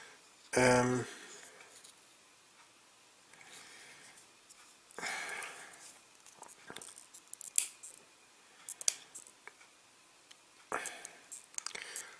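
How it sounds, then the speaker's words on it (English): Snipping excess flashing off a painted miniature model with small cutters, heard as a loud close snip near the start followed by scattered quiet clicks and handling noises. "I've got a couple of areas here where there's a bit of flashing, which I'm going to just snip off"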